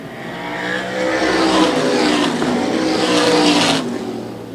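Several race cars duel for the lead in a short-track event, engines roaring loud and steady as a pack sweeps close past, with a rising and falling whine before the sound cuts off abruptly.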